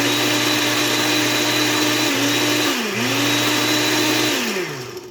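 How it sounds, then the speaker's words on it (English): A blender crushes ice and banana for a peanut butter banana chia shake, running as a loud steady motor whine whose pitch dips briefly as the load shifts, then winds down at the end. "this ensures that the ice and the banana are crushed well."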